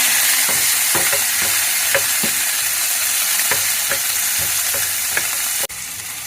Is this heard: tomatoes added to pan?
yes